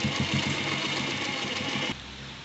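A sewing machine runs rapidly while stitching a kurta collar, a rhythmic mechanical whirr and chatter that stops abruptly near the end and leaves a low hum.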